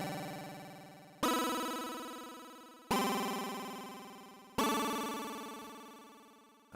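A wavy, computer-game-like square-wave tone from an ES2 synth, wobbled by an LFO, sounds as four long sustained buzzy notes, each struck sharply and then slowly fading, fairly quiet and with no voices.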